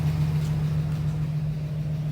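Up close, a warm UMZ 4216 engine with a new oil pump sits at idle, its hydraulic lifters knocking; a continuous low drone carries a subtle, fast rhythmic ticking.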